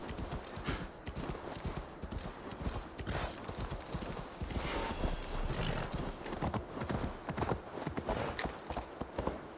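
Horse hooves galloping in Assassin's Creed Valhalla, a fast continuous clip-clop rhythm running throughout at moderate level, with a brief whinny and no talk over it.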